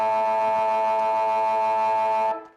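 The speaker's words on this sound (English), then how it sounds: "And there's the siren to bring half-time." Half-time siren at a local Australian rules football match between Lavington Panthers and Wodonga Bulldogs: one long, steady, loud tonal blast that holds and then cuts off sharply.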